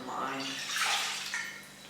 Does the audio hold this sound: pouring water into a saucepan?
yes